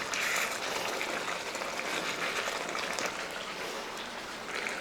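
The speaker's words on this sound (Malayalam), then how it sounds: "അപ്പം നല്ലപോലെ തിളയായിട്ടുണ്ട്" Egg curry boiling hard in a pan over high heat, a steady close bubbling and sizzling hiss that carries on evenly throughout.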